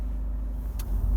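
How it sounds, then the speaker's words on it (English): A Honda Civic sedan with a 1.6 i-DTEC diesel engine pulls uphill in first gear, heard from inside as a steady low engine drone and road rumble, with a brief sharp tick near the end. "So let's accelerate up the hill. First gear."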